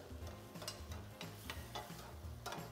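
Dried ingredients are stirred in a braising pot with a spoon, giving a run of soft scraping, rustling strokes over a low steady kitchen hum.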